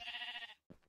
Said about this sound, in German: Schaf!